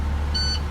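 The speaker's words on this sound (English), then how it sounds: "And what's your buzzer?" Aboard a Class B school bus, a single short high-pitched electronic buzzer tone sounds over the steady low idle of the engine.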